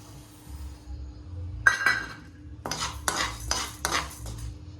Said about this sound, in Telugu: అన్నీ కలిపి ఫ్రై అవుతున్నాయి.